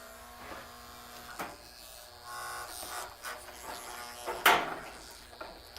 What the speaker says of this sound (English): My Faraday cage is rattling.